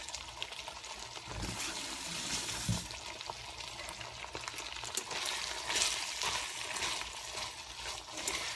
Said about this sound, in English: Now I'm just going to let this simmer